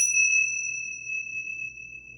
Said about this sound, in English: These are tingsas.